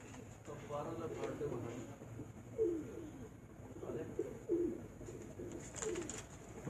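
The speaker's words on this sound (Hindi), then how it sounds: "ये बाकी कबूतर भी आप देख रहे हैं।" Racing pigeons cooing in a loft, soft repeated throaty coos every second or two at low volume, under someone talking.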